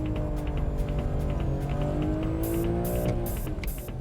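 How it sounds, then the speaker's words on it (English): Sports car power sliding through a drift test on a track, a steady roaring engine with rising revs under a long squealing tire screech, heard from a distance with repeated sharp bursts near the end. "Ah, nice power slide there."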